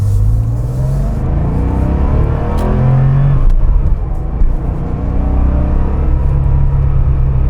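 A modified 1979 Porsche 911 with a rebuilt engine revving loudly on the road from the cabin, its pitch climbing and dropping through gear changes under a steady rumble of road noise.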